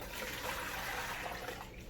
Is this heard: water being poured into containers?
yes